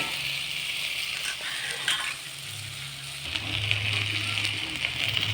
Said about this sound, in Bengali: আর একটু ভেজে দিই।